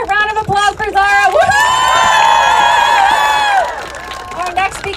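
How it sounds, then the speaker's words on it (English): A crowd at an outdoor climate strike rally in Washington DC erupts in loud cheering, whooping and clapping for a speaker, the roar swelling and holding for a couple of seconds before easing off under voices. "Let's have another round of applause for Zara."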